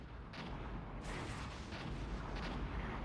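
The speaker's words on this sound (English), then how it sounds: "here comes all that artillery" Artillery barrage in a WW2/Vietnam strategy game, heard as a low, continuous rumble of distant shelling with a few duller thumps rising out of it, faint and unbroken by voices.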